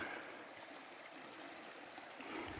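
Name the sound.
river stream flowing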